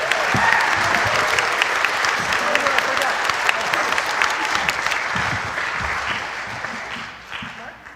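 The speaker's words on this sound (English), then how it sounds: "would you give them another round of applause for that amazing?" A concert hall audience gives sustained, full applause for the clarinet and trumpet soloists, loud and even before tapering off in the final second.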